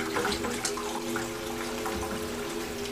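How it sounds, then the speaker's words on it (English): Water siphoned from a classroom salmon tank gurgles and splashes steadily down into a bucket, a continuous close trickling with faint hum beneath and no voices. "This will create a vacuum to allow gravity to pull water from inside the tank down to a bucket below."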